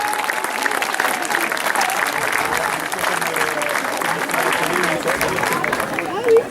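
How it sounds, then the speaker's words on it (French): A crowd at an FSGT national sports event gives loud, sustained applause for the volunteers, a dense, steady roar of clapping mixed with crowd murmur that holds at full strength for several seconds. "Je pense qu'on peut les applaudir."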